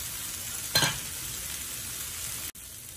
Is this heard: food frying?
yes